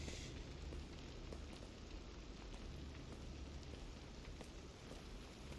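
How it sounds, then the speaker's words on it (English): A quiet, steady wash of rain noise in a Resident Evil remade map in a video game, soft and continuous, with no voices. "Raining a lot outside."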